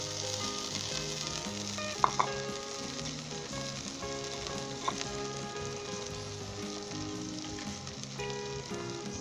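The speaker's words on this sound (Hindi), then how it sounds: "प्याज शामिल कर देना है ऑयल में। साथ ही आपने इसमें अनारदाना शामिल कर देना है।" Onion and dried pomegranate seeds sizzle steadily in hot oil for a Pakistani okra curry, a dense continuous crackle with a couple of brief sharper pops, no talking.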